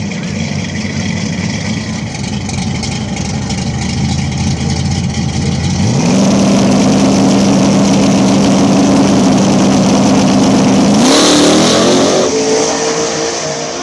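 Nitrous-fed and turbocharged Chevy Nova small-tire outlaw drag cars at Mooresville launch in a loud, continuous roar; idle rumble builds at about six seconds into a sustained high-revving scream, with a second sharp surge near eleven seconds.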